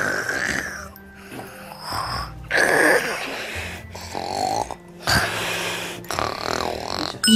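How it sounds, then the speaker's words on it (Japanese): Loud, rhythmic snoring, several rattling breaths in a row, close up with a few pauses between them. "いびき？"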